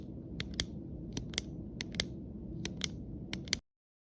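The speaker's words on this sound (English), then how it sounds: "It's pen clicking." Sharp, high clicks of a ballpoint pen repeat at irregular intervals, about a dozen in under four seconds, over a low room hum, close and fairly quiet, then stop abruptly.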